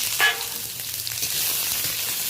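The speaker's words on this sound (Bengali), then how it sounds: "হালকা করে পেঁয়াজটা একটু ভেজে নেব" Onion fries lightly in a little oil, giving a steady soft sizzle close by, with a sharp scrape of a spatula near the start.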